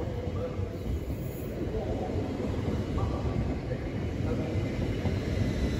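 An Avanti West Coast Class 805 train at London Euston station gives a continuous low, heavy rumble, steady and fairly close throughout.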